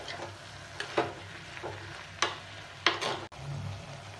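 Ridge gourd being sautéed with salt in hot oil, giving a steady soft sizzle with a few sharp stirring scrapes and clinks scattered through, close and moderately loud, no talking.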